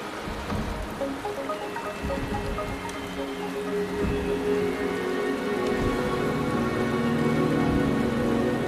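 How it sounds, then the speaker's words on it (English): Steady rain falls in the video game Wuthering Waves, a continuous patter of drops on surfaces that holds even and fairly loud throughout, with no voices. "The rain is subsiding, and the sky will soon clear."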